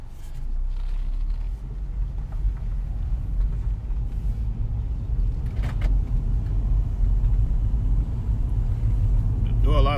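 A 2012 Ford Fusion SE drives along with a steady low engine rumble and road noise from inside the cabin, with a few faint bumps and clicks.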